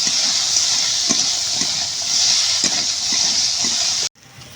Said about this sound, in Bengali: দিয়ে ভালো করে কাঁকড়াটাকে ভেজে নেব।